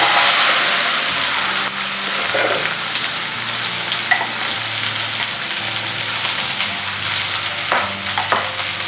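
Thinly sliced okra (bhindi) tossed into browned garlic in a kadai, giving a loud, steady sizzle and crackle of frying that runs throughout with a few brief stirring scrapes, no voices.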